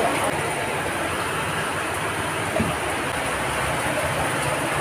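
Steady rain pouring outdoors during a bath in the rain, a dense continuous hiss of falling water close to the microphone with no pauses.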